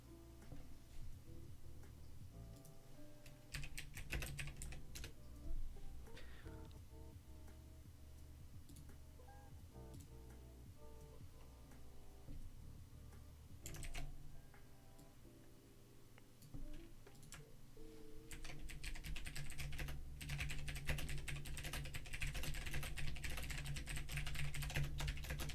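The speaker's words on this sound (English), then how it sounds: "I was machine gun typing" Fast, rapid-fire typing rattles on a computer keyboard, a dense run of quick clicking keystrokes that keeps going for the whole stretch with small pauses and bursts of speed. It is fairly faint, over a low background rumble, with no talk.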